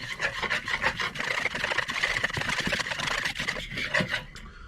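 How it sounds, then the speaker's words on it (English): A whisk beats a sweet and spicy marinade for hot wings in a bowl, giving a steady, fast scraping rasp of rapid strokes close by with no talking. "Just going to take a whisk now, mix all those ingredients together."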